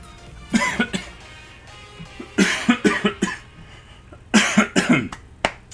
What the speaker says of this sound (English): I mean, except for that coughing fit that just happened.